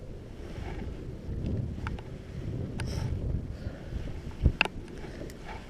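Cold wind buffets the microphone beside a creek during a smallmouth bass fishing trip, a low, rumbling, fluttering roar with a few sharp clicks and knocks, and no talking.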